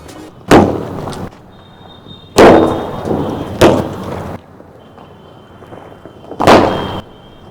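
Four loud Diwali firecracker bombs go off one at a time, each a sharp bang followed by a crackling rumble, with quiet gaps between them.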